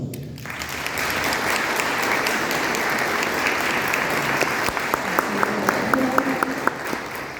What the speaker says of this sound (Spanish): la recibimos con un cálido aplauso